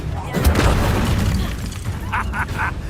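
Fiery Incendio spell blast in the Hogwarts Legacy video game, a loud boomy burst under game voices, followed by a few short bright crackling pops near the end.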